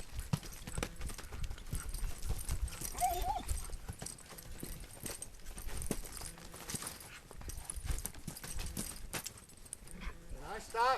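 Hooves of a horse clop at a walking pace on the ground in a loose, irregular rhythm, fairly faint, while a person talks over them and a brief whinny-like cry breaks in.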